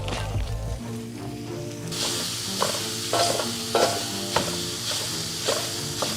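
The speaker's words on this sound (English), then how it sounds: "we want to brown, get our Italian sausage brown, right?" Italian sausage browns in a pan over a medium flame, with a steady close sizzle and repeated scraping stirs from a utensil tapping and dragging at an even rhythm.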